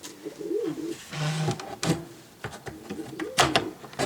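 Domestic pigeons in a loft give soft, warbling coos in short rising and falling phrases, close by, with a few light knocks and rustles between calls.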